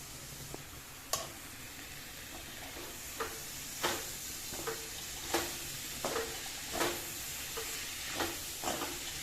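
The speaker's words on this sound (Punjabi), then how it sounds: "ਇਹਨਾਂ ਨੂੰ ਭੁੰਨ ਲਵਾਂਗੇ" Bitter gourd (karela) frying in a pan, a steady soft sizzle broken by about a dozen sharp scraping clicks as the pieces are stirred at irregular intervals, close and fairly quiet, with no talking.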